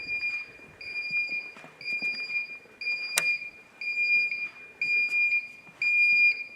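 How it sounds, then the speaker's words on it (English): A building alarm sounds in steady, repeating high-pitched beeps, on and off at a regular pulse with faint background knocks, no speech. "It's the alarm."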